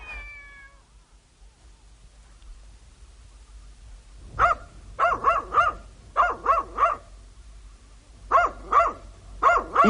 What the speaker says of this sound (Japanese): 犬はどこにいますか？